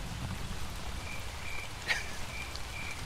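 Recorded rain for sleep, a steady close wash of falling drops with a few brighter drip ticks and no clear thunder rumble, playing on its own without voices.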